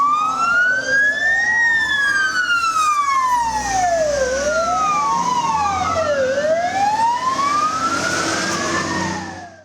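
A fire engine siren wails continuously on a road, its pitch sweeping slowly up and down in long repeating cycles, loud and close, with faint traffic rumble underneath.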